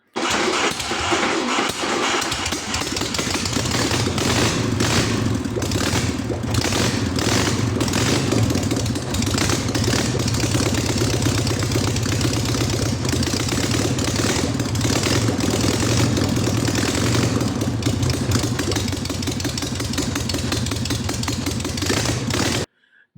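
A small Volkswagen Beetle engine fires up and settles into a steady, continuous idle, loud and close, running unbroken for the whole stretch.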